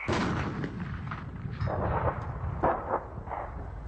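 A MOAB, a massive high-explosive bomb, detonating in a test blast: a heavy, rolling roar with repeated booming surges and rumbling aftershocks, loud and without speech.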